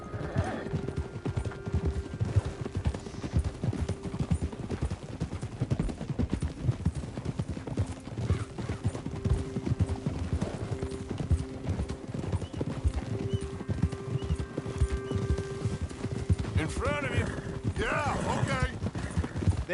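Steady clip-clop of horse hooves at a trotting rhythm in Red Dead Redemption 2, with an occasional whinny, a tonal hum in the background and a voice talking over it.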